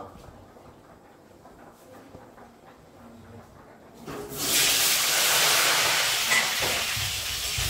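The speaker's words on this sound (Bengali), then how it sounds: "আলুগুলো প্রথমে তেলে খুব ভালো করে ভেজে দেব" Cut potatoes dropped into hot mustard oil in a heated wok, a loud, steady frying sizzle that bursts in partway through and continues alone after a quiet start.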